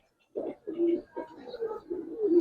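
Giribaz high flyer pigeons give several close, clear coos in a row, short rolling throaty phrases with brief gaps, quiet room around them and no talking.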